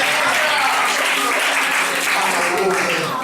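A church congregation claps together during a lively gospel service, loud sustained clapping with voices and shouts mixed in throughout.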